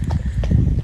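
A horse's hooves clip-clop along a footpath in a brief, close run of steps, dull thuds over a rumbling low background.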